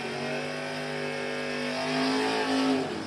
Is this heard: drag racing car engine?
yes